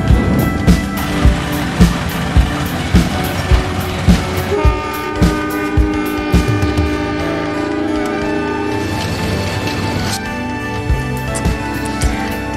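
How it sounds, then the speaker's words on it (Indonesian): A train rumbles into a station in Yogyakarta, Indonesia, with rhythmic clacking of wheels over rail joints, a steady mechanical drone underneath, loud and close throughout. "disusul oleh kedatangan kereta api dengan gerbong Pupuk Pusri berwarna hijau."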